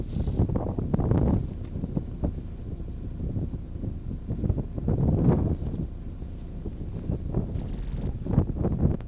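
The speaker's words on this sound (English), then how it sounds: "It's as windy here as I've seen it in a while" Strong gusts of wind batter the microphone on a golf course, a loud, rumbling buffeting that swells and eases in irregular waves for the whole stretch, with no voices over it.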